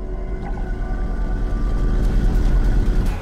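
A whale calls underwater in long, tonal, wavering moans over a deep, loud, rumbling drone, with no voices.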